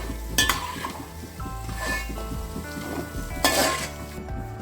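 Fried cashews are lifted out of hot ghee in a pan while the ghee keeps up a steady sizzle, broken by a couple of sharp metallic scrapes and clinks from a spoon against the pan.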